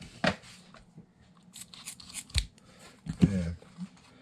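Scissors snip through tape wrapped on an RC car tire, making several short, crisp cuts and crunches spaced irregularly, close and fairly quiet.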